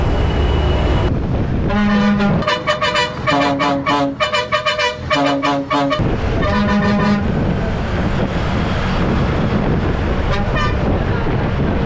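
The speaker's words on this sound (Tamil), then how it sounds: "ஹைவே ஸ்டார்ட் பண்ண உடனே ஹாரனில் டிரைவர் விளையாடுறாரு பாருங்க" A bus horn honks repeatedly in a playful, melodic pattern of short and long blasts over steady road and engine noise, on a highway between Koyambedu and Kanchipuram.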